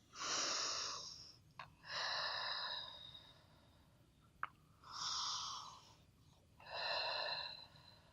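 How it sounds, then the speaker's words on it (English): Slow, deep breathing during a lower-body mobility exercise session: four long, even breaths in and out, close and fairly soft, with a couple of brief clicks between them and no talking. "Take 3 breaths here at your own count."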